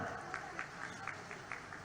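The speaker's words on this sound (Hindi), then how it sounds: "जरा ताली बजा के बताओ, बनाना है क्या?" A crowd claps at a government chief minister's rally in Jhabua, Madhya Pradesh, heard as faint, distant, loosely rhythmic applause against a hollow outdoor background.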